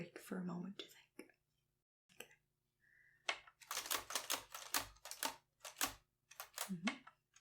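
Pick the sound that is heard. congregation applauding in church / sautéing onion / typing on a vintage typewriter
typing on a vintage typewriter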